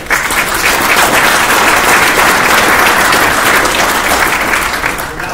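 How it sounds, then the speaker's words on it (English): Sustained, loud applause from a large crowd at a military field artillery battalion ceremony, dense and even from start to finish with no talking over it. "Round of applause."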